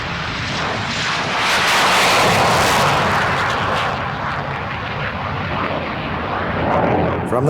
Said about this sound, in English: F-9F2 is rolled out at the Bethpage plant test facility for its first flight.